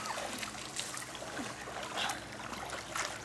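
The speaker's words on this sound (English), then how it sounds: "Watch the splashing." Water splashes and churns continuously in a swimming pool, a busy, close wash of splatters and sloshing, with faint voices in the background.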